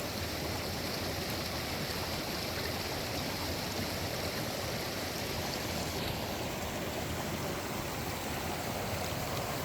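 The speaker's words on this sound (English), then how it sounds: "This is the largest stream we have come across." A large mountain stream in the Trinity Alps rushes steadily, a close, continuous broadband wash of flowing water with no voices.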